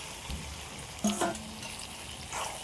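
Marinated meat, likely chicken, fries in oil cooked with spices, giving a close steady sizzle with a brief clatter of stirring near the middle.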